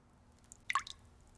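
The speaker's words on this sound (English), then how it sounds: "the tap is dripping." A bathroom tap drips, giving a single close, bright plop with a brief splashy tail against a quiet room.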